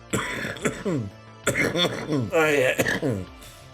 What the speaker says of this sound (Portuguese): Com licença, eu vou pigarrear um momento.